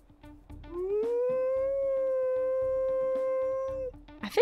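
One drawn-out wolf howl from the video game WolfQuest swells upward, sustains steadily at a high pitch, then cuts off, followed by a brief rustle at the end.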